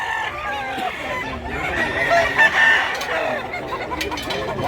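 Chickens cluck and a rooster crows amid a busy, crowded background murmur of buyers and sellers at a poultry market, moderately loud throughout.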